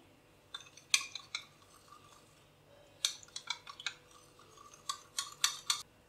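A whisk clinks against a bowl while milk is mixed into oil, coming in short bursts of quick metallic taps separated by pauses, fairly close and crisp.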